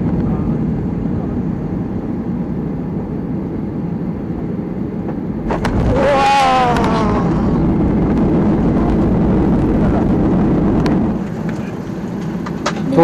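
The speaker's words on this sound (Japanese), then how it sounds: "着陸。" An airplane lands at Hakodate, heard from inside the cabin as a loud, steady engine roar, with a rising whine and a surge of rumble near the middle before it eases off slightly.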